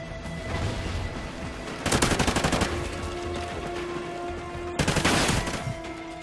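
Rapid bursts of automatic gunfire firing armor-piercing rounds in the Call of Duty Ghosts team deathmatch on the Prison Break map: two dense volleys a few seconds apart over steady background game ambience, with no talking.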